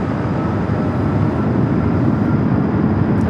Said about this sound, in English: SAS, you can hear it taking off there on the north side